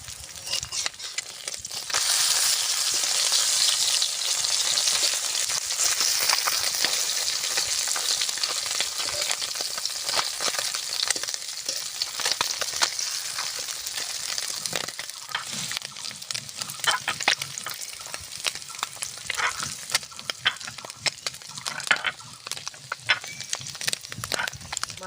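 Fish fries in a pan for a homestyle Bengali fish curry, giving a loud, continuous sizzle with crackling and occasional stirring or flipping noises that carry on for a long stretch.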